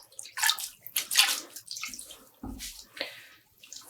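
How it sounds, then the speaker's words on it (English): Wet dyed tweed yarn wrung out by hand over a tub, water splashing and trickling in short uneven bursts, close and fairly quiet. "Squeezing out the water."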